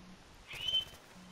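A bird gives a brief whistling call, a single short rising note heard faintly against quiet outdoor background noise.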